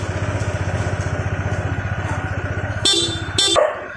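An idling Honda ADV160 scooter engine putters rhythmically, then its stock horn gives two short, bright beeps close by, the second slightly longer.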